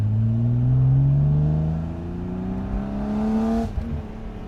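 A BMW E36 M3 accelerates hard in second gear, its engine note climbing steadily in pitch from close by, loud and continuous before easing off near the end.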